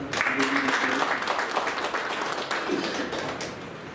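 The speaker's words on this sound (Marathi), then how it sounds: "आपण सगळे टाळ्या वाजून त्यांचं" An audience at a Marathi literary ceremony applauds steadily, a dense wash of many hands clapping at moderate loudness that holds for several seconds, with a faint voice briefly showing beneath.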